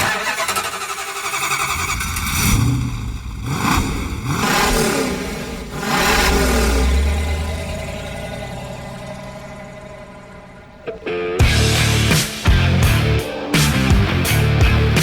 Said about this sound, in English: there's nothing gentlemanly about the 375 horsepower standard 440 Super Commando in these cars